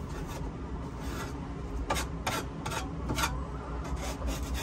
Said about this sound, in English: We just come through here with like a cheap cutting knife. And just scrape the big chunky doo-doo off.